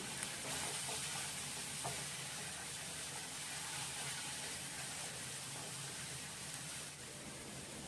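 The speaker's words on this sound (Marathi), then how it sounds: "मसाले तेलामध्ये परतवून घेऊ" Turmeric and Agri masala sautéing in hot oil with golden garlic, ginger and chilli give a constant, even sizzle that holds loud and steady throughout, with faint stirring underneath.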